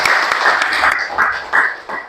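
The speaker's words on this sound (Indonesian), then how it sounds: "Tepuk tangan untuk kita semua." Classroom applause from students during a teacher's practice lesson, a steady wash of clapping that swells and dips over about two seconds, fairly loud and with no one speaking over it.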